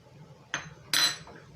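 A spoon knocks twice against the side of a container while sourdough starter is stirred with water, giving two quick clinks close by in a quiet room.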